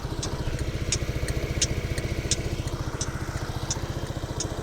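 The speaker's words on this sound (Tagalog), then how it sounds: "Kakaiba yung tunog ng relay niya, parang batong pinag-uumpog." A Zontes 150X motorcycle engine idles with a steady low throb while its turn signal relay clicks sharply at an even pace over it, about two clicks per second.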